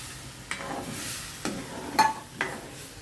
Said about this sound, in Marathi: तर त्याच्यामध्ये आपण हे आपलं डाळीचं पीठ जे ओलं मिक्स करून घेतलं ते टाकलं. त्यामध्ये आता हे ताक